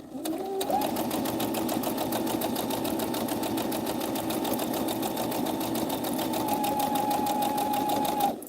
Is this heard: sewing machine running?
yes